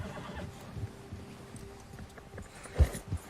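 Horse hooves clop in Red Dead Redemption 2 as a spooked horse moves near a bear, a soft uneven run of steps ending in a louder heavy thud near the end, with no talking.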